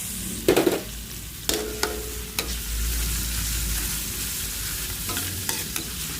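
Chopped tomato and onion sauté in a hot pan with a steady low sizzle, punctuated by sharp scrapes and clacks of a utensil stirring, close and clear with no talking.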